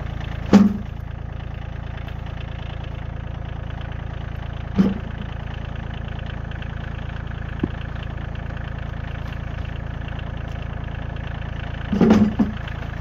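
A steady low engine idles throughout, with a few sharp knocks and clanks standing out at intervals over the continuous rumble.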